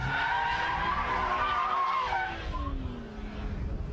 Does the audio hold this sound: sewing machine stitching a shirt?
no